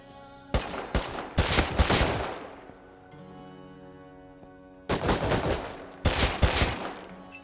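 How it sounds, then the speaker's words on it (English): An auto turret in the game Rust firing in loud, rapid bursts: two volleys early, a quieter gap with faint tones, then two more bursts of fast automatic shots, no talk over them. "Oh, wow. Auto turret."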